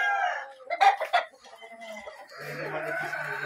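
A sweater-line gamefowl broodstag rooster clucks loudly and close on a farm, with a few sharp bursts early on, then quieter clucking over low background noise and faint murmuring.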